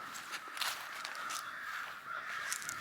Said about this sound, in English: Those birds are going to town over there.